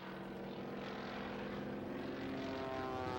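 A Waco biplane flown low and slow near stall speed during a stunt passes by, its propeller engine droning in a steady, moderately distant hum that swells slightly.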